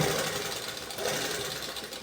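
A sewing machine runs steadily while stitching a cross patti on a blouse, its dense motor whir and needle chatter continuous and close for about two seconds.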